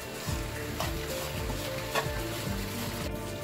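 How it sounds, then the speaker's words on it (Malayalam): A date energy bar mixture with crushed biscuit powder being stirred in a pot, heard as repeated scraping and stirring strokes with a light sizzle underneath, close up and with no voices. "ആ പൊടിച്ച് വെച്ച ബിസ്ക്കറ്റിൻ്റെ പൊടി കൂടി ചേർത്ത് കൊടുത്ത് നന്നായി ഇളക്കി കൊടുക്കാം"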